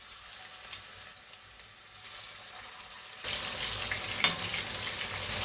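Marinated chicken fries in hot oil, a steady sizzle that suddenly grows louder and brighter partway through, with a sharp crackle shortly after, close and free of speech.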